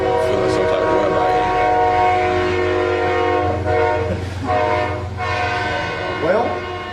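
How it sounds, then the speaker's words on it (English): A train rolls past close by with steady low rumble and rail noise throughout, a loud horn-like tonal blast sounding over it, during a broadcast break. "everybody heard the train go by"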